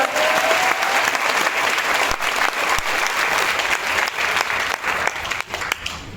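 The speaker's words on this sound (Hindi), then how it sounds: "तालियां बजा दीजिए एक बार जोरदार।" Loud, sustained applause from a large audience at a gathering, dense clapping holding steady for several seconds before thinning slightly at the end.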